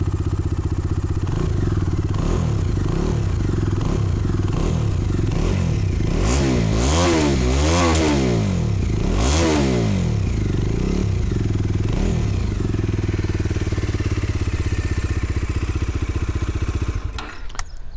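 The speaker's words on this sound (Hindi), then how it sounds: "तो इसकी जो आवाज़ है थोड़ी आइडल पे इसमें काफ़ी ज़्यादा बेस है।" A Bajaj Dominar 250 motorcycle engine starts and idles with a deep, bassy throb, blipping through a few brief revs before settling back to a steady idle, loud and close with no talk.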